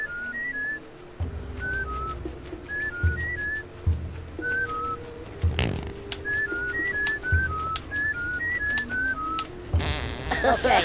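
Short bright whistled notes from a character in the game Oddworld: New 'n' Tasty come in clusters over a steady game musical backdrop, repeating in melodic bursts through the clip.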